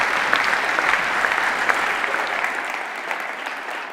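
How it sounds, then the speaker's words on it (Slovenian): Audience at a Ljubljana university award ceremony breaks into sustained applause, a dense wash of clapping from a large crowd that continues evenly, easing slightly toward the end. "ja, en aplavz za Marka"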